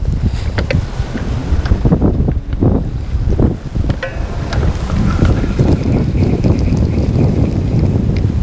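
Steady breezy wind gusting across the microphone while fishing from a boat on a chilly October day. It is a loud, continuous rush with faint water sounds and no talking.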